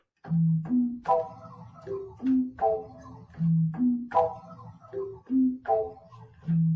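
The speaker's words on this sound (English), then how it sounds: "this is the recording of a bittern." A recorded bittern gives a series of deep, resonant booming notes, about a dozen low hoots in a steady pulsing rhythm, heard alone and fairly close.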